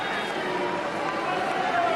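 Arena crowd at a Pride 7 mixed martial arts fight murmurs and roars in a steady, dense swell, with a commentator's voice running over it.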